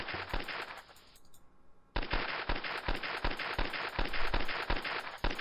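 Rapid submachine gun bursts in a video game, loud and close, a stream of fast shots that breaks off briefly before resuming in another long burst.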